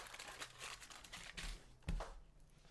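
Quiet, close crinkling of tin foil as tape is pressed down over a pin on a workbench, with soft rustles and a brief sharper crackle near the end.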